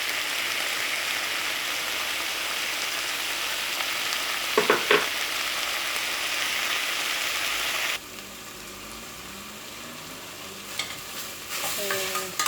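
Steady sizzling of beef and onions frying in a pan, loud and continuous, with a few scraping stirs and a brief quieter stretch partway through.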